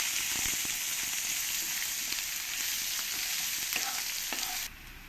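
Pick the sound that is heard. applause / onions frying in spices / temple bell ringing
onions frying in spices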